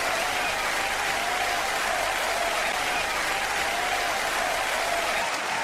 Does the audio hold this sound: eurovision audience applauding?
yes